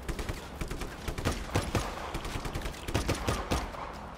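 Gunfire in the video game Just Cause 3: a steady fusillade of sharp shots and bursts, repeated cracks over about four seconds at a moderate, continuous level with no talk.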